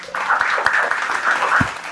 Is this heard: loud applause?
yes